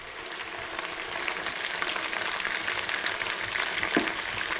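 Chicken wings fry in a pan of hot oil with a dense, continuous crackle and sizzle, loud and close with no talking.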